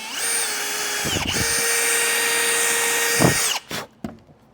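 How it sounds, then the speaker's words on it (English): A power drill whines steadily at high speed for about three seconds while driving screws into a wooden bed frame, then stops, followed by a few short bursts and clicks of the tool. "between countersink bit and driving our screws in"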